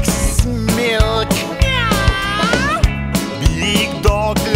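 A cat meows repeatedly and loudly in close succession over a rhythmic musical backing with steady beats, the rising and falling meows dominating throughout.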